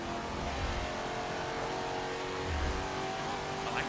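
Sustained engine drone from a car in the racing game Forza Motorsport 7, a Sport Touring Series race car holding a steady mid-pitched hum with slight swells, continuous and fairly loud with no talk.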